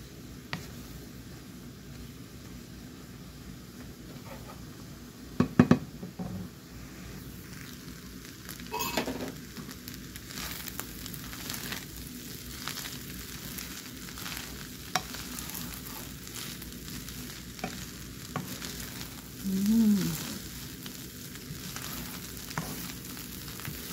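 Leftover rice being stir-fried with carrots and vegetables, a steady close sizzle with scrapes and clanks of a spatula against the pan, a few sharper knocks standing out, no talking.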